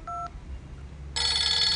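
A mobile phone dialed, with a single short two-tone keypad beep followed by a steady electronic ringback or dial tone, close and clear with no talking.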